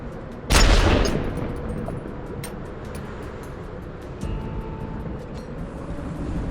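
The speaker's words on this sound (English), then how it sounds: "Did they just open fire on the police?" A single loud blast, then scattered lighter pops and rumbling in the Worms W.M.D. artillery game, fading to a low, busy background.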